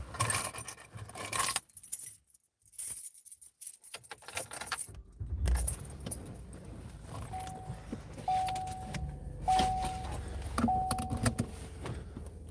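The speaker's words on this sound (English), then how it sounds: "Where are my keys? Oh, here they are." Keys jangle loudly in rattling bursts near a car, followed by car interior sounds and repeated short electronic beeps.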